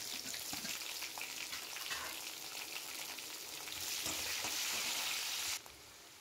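Curry leaves and onion frying in hot oil for sambhar, a continuous close sizzle that swells louder midway and then drops off abruptly near the end.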